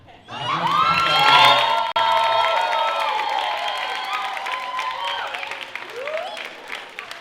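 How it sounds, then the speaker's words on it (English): An audience bursts into loud cheering and applause after a performance by an African American dance company, with whoops and shouts swelling quickly, then holding steady and gradually tapering off. "Again, a warm round of applause."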